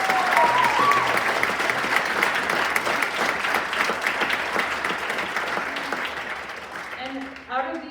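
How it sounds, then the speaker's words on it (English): High school band holiday concert audience claps for band students, a full, steady round of applause that thins and fades near the end as voices come in. "Please clap for all of these"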